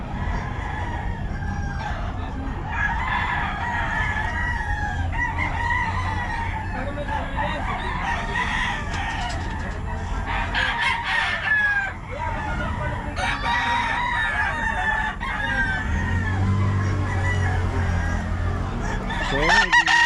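Several roosters crow repeatedly amid steady clucking from a group of chickens at a home yard, the calls overlapping near and far over a constant background bustle, with faint voices in the mix.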